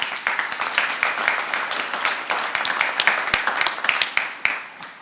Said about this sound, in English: Mary Beard, please give her another round of applause.